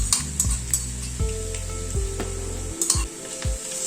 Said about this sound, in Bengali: এই মশলাটা দিয়ে আবার একটু পেঁয়াজের সাথে ভেজে নেব।